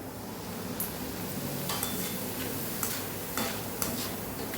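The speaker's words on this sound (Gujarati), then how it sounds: "હવે આપણે પૌવા તળી લેવાના છે." Poha (flattened rice) frying in hot oil for a Gujarati chevdo, a steady dense sizzle throughout with occasional brief crackling bursts, close and fairly loud, no talk.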